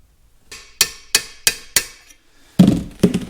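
A hammer drives a roll pin into the transmission shifter of a Minneapolis-Moline 445 prototype tractor, with six sharp metallic blows: four evenly spaced taps, then two heavier strikes after a short pause, all close and distinct.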